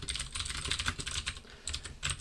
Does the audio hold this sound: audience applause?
no